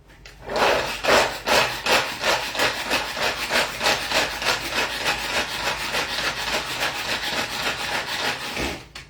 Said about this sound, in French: c'est parti, on va hacher